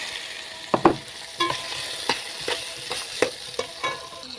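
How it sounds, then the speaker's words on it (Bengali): Onions and pre-boiled chicken frying in a pan, a continuous sizzle broken by repeated sharp scraping strokes of a spatula stirring at an irregular rhythm, close and clear. "এই পর্যায়ে পেঁয়াজটা আমি হালকা ভেজে নিচ্ছি"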